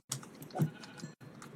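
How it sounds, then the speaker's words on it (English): Pink sheep bleating in Minecraft, a short single bleat amid faint clicking of keys, quiet and without talk. "Ooh, pink sheep."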